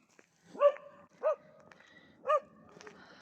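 A stray dog gives three separate, short, sharp barks about a second apart, fairly close, with quiet background between them.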